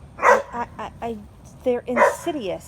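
A dog tied up and wrapped around a garden tree barks and whines in short yips from a short distance, alongside someone talking close by.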